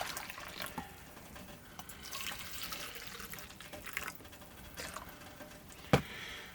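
Camp coffee poured into cups outdoors: a soft, fairly quiet trickling flow with a sharp clink near the end, no talk.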